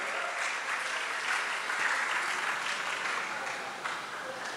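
Teenagers at a conference clap for a school being announced, a fairly soft but continuous round of crowd applause in a large room, holding steady for a few seconds.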